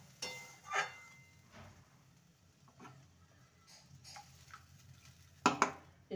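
A spoon stirs spice masala with added water in a pot for a fish curry, giving faint, sporadic scrapes and light clinks against the pot, with a sharper clatter near the end.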